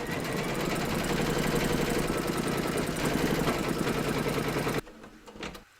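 A computerized embroidery machine stitches round an outline in dark brown thread, a steady rapid mechanical chatter at close range for nearly five seconds before it abruptly stops, leaving faint quiet clicks.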